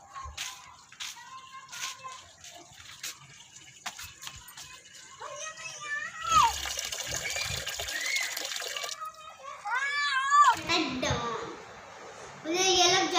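On a rooftop, water splashes and pours intermittently onto potted plants, in uneven bursts, while children chatter loudly over and between the splashing.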